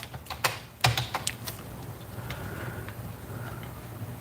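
Keys clacking on a computer keyboard in a quiet room: a quick burst of separate taps at first, then softer, sparser typing fading into low background hiss.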